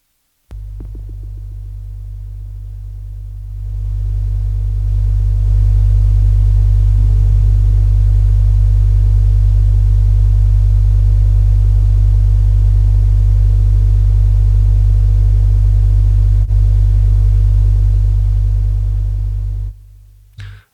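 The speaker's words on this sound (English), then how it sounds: "We got some hum going on now." An IK Multimedia Tape Echo plugin modelled on the Echoplex EP3, with its noise control turned fully up, gives a loud constant low electrical hum and mechanical throb that swells in after a few seconds and holds steady before cutting off.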